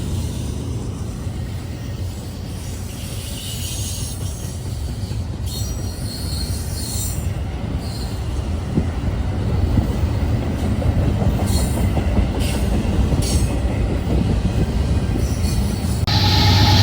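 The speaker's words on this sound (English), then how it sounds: "288 is an intermodal that runs from Rossville, Tennessee to Rutherford," A Norfolk Southern intermodal freight train, running from Rossville, Tennessee to Rutherford, Pennsylvania, rolls through the Sequatchie Valley. Its loud, continuous rumble builds slowly, with faint high wheel squeal above it.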